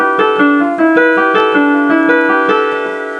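A bright, bell-like melodic canon built on the repeating number sequence 1 4 2 8 5 7 plays alone, with overlapping voices of sustained tones entering in a steady, regular pulse at strong, even volume.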